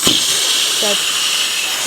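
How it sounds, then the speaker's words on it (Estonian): A leaking pink balloon gives off a steady, loud hiss of escaping air that runs unbroken for nearly two seconds, then stops abruptly. "Mu roosa õhupall lekib."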